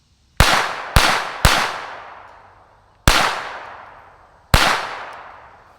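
Five sharp rimfire pistol shots from a Taurus TX22, the first three in quick succession, then two more spaced apart, each a loud close crack with a ringing decay.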